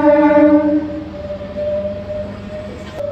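A passing train on the Kakinada–Vijayawada line near Kadiyam gives a loud, sustained horn that fades after a moment into a low, steady rolling rumble, close by.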